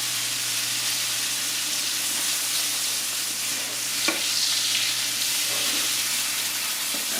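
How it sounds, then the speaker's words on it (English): Steak frying in a pan with butter spooned over it, a steady close sizzle running throughout with a faint brief clink of a spoon midway, no talking. "baste your steak as it's cooking. You tilt it in and just lightly baste it."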